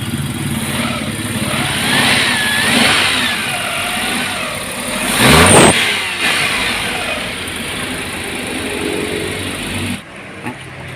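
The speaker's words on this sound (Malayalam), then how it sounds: "വണ്ടി സ്റ്റാർട്ട് ചെയ്തിട്ട് ഒരു 20 മിനിറ്റ് ഇതുപോലെ വണ്ടി കിടക്കണം." A car engine idles steadily during an engine flush, a continuous close mechanical hum with no talking, a brief louder burst midway, and an abrupt drop near the end.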